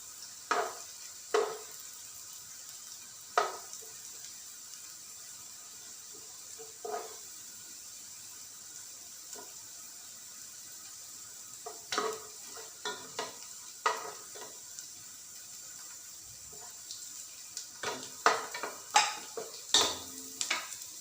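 Onions fry in a pan until golden brown for chicken mandi, a faint continuous sizzle broken by occasional scrapes and clinks of a spoon stirring against the pan.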